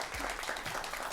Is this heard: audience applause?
yes